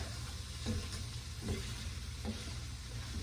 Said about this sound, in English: Give it a nice good stir.